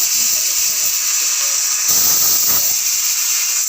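A pressure cooker full of vegetables lets off a loud, continuous high hissing whistle that holds steady throughout, with a voice faintly audible beneath it.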